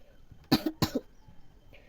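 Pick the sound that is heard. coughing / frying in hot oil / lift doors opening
coughing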